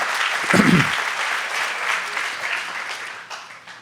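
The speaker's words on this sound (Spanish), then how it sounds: "Un aplauso al Señor, hermano" A church congregation bursts into applause for the Lord, a thick sustained patter of many hands that starts strong and slowly fades, with a brief low voice near the start.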